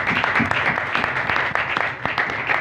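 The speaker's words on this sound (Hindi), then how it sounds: "शमौन भाई के लिए जोरदार ताली।" An audience at a Christian religious gathering claps together for a speaker, a dense, loud patter of many hands that stays steady throughout the short stretch, with some voices mixed in.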